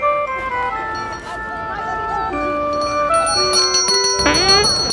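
Bright ringing tones sound in overlapping, sustained pitches, with a burst of fluttering high chimes near the end; loud and close, no speech.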